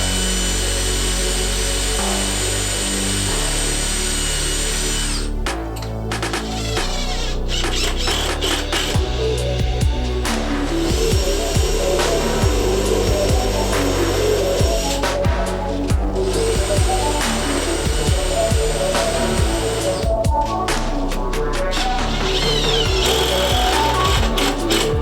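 A power drill drives 3.5 inch construction screws into wood, countersinking each head while building a truck camping platform; a loud, steady whirring grind with pitch shifts and brief pauses between screws, close up, with no talk.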